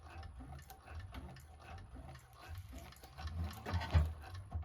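A 1341 cylinder arm sewing machine stitching across a bag piece, a soft, quiet, steady mechanical patter that grows slightly louder near the end.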